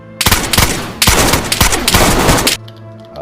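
Gunfire in a survival shooter game firefight, fired through a window from a neighbouring building, comes as a loud, close, rapid burst of shots, a brief pause, then another sustained burst before it stops abruptly.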